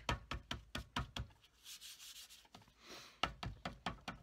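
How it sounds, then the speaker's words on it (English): An embossing buddy anti-static pad is rubbed over card-making papers in quick rhythmic strokes, about a dozen close brushing swipes with a pause of slower rubbing in the middle. "I'm going to use my embossing buddy and get my papers to be embossed"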